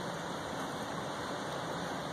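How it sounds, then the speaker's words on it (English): Heavy rain pours steadily during a Florida storm, a dense, unbroken wash of sound at constant loudness with no talking. "it's still raining hard out there"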